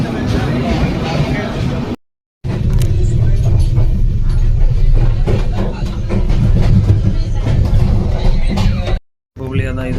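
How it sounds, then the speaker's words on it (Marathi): A train pulls into a railway station on a trip to Shirdi, its steady low rumble filling the platform with voices over it and two brief breaks in the sound. "आता आली गाडी."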